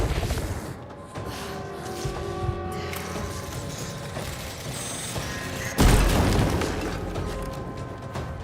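A grenade goes off in Alan Wake 2 as one sudden loud boom partway through, cutting across a droning game soundscape and then fading into a rumbling tail.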